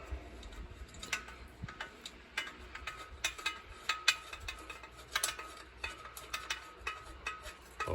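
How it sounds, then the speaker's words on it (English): Socket wrench turning a nut onto a bolt while assembling a homemade powered wheelbarrow, giving a steady run of small metallic ratchet clicks, close and fairly quiet, with no talking. "Take your socket with the nut in the end of it. Thread it onto your bolt."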